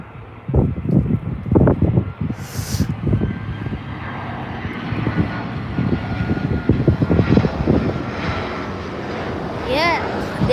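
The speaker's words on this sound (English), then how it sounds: "But first up, A319 EasyJet Europe." An EasyJet Airbus A319 airliner arrives on a sunny April day, its engine roar and broad rumble sustained throughout, with wind buffeting and some voices over it.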